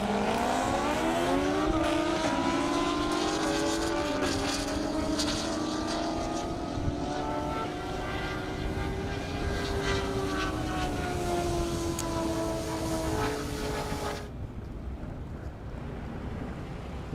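A ZX14 motorcycle and a Corvette launch together in a drag race on an airstrip, engines rising in pitch through the gears over a long, loud pass. The sound fades as they pull away, and the noise then cuts off sharply.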